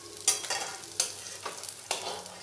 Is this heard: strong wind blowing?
no